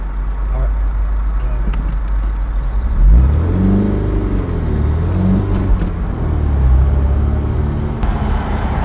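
A BMW 320i E93 convertible's engine drones steadily while driving, with a rising and falling pitch as it pulls through the gears, heard close from inside the car.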